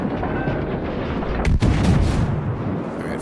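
HMS Warspite firing a naval gun salvo in World of Warships, a heavy booming blast midway that rolls into a deep rumble over constant background battle noise, loud and close.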